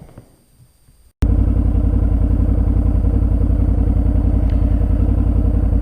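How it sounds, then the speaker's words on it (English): A 2005 Suzuki V-Strom 650 V-twin motorcycle's exhaust while riding, a steady loud throbbing rumble that cuts in abruptly after a quiet second of wind noise and holds evenly to the end. "we'll just give you a bit of a sound of that exhaust back there"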